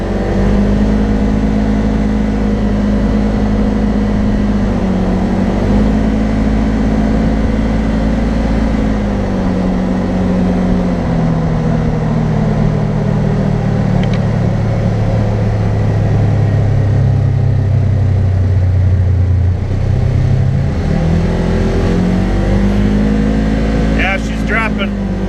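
A 2020 Polaris General XP 1000 UTV engine runs loudly and steadily up close, its pitch slowly rising and falling through several revs, with a little talk faintly beneath the drone.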